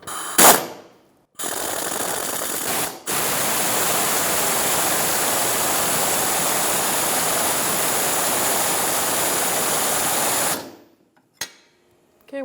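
Impact gun running an 18mm socket onto the nut of a rear sway bar link on a 2013-2018 Toyota RAV4, a loud steady hammering rattle lasting about nine seconds after a short opening burst, then stopping abruptly.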